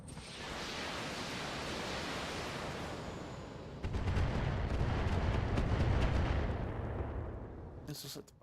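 Missile fire in the BattleTech mod BTA, a dense roaring barrage that swells louder midway with rapid rumbling impacts, then cuts off sharply.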